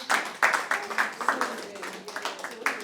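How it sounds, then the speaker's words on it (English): A small audience at a question-and-answer session gives a round of applause: scattered, moderately loud claps that come in uneven bursts and keep going for a few seconds, with no one speaking. "Let's applaud him"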